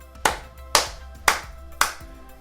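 Hand claps at a Sunday school singing session, four sharp, evenly spaced claps close to the microphone with a short ring after each.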